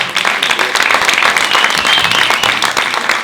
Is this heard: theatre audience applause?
yes